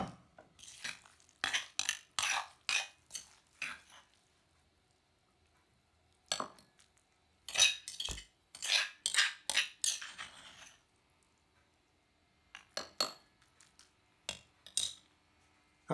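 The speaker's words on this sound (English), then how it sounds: "take a spoon and spoon it out into a small bowl" A metal spoon clinks and scrapes against a small bowl while scooping out a blended spice mixture for Indonesian oxtail soup, in clustered bursts of sharp taps separated by quiet pauses, close and alone.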